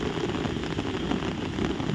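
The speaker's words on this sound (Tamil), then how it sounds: "மழை நல்ல வலுவான மழை பெய்து கொண்டிருக்கிறது" Heavy rain pours down steadily at the Porur bridge junction, a dense, continuous hiss of drops drumming on a surface close by, with no voices.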